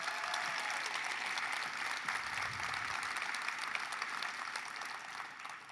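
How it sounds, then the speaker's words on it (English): An audience at a Henrico County State of the County event applauds the budget department, a sustained, even wash of clapping from a large crowd that runs for several seconds and eases slightly toward the end. "Can you give them a round of applause?"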